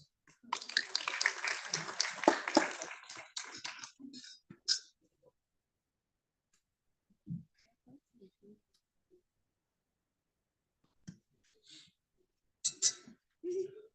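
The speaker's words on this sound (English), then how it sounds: "Let us invite them on the dais with a round of applause." An audience applauds at a 50th birth anniversary celebration: a dense burst of clapping lasting about four seconds, then near silence broken by a few scattered claps and small sounds.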